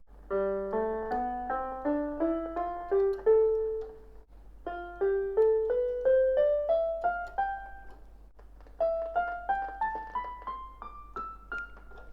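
Clear piano notes played one after another in rising runs, three short ascending phrases with brief pauses between, no voices.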